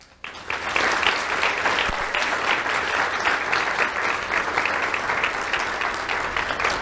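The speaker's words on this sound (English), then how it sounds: "Round of applause for Araya." At a school awards ceremony, the audience bursts into applause after a brief quiet moment, then keeps up dense, lively clapping from many hands at a strong, even level.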